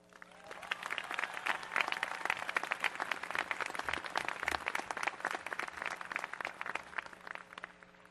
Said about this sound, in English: I would like to ask the academic staff and audience to come together in applause.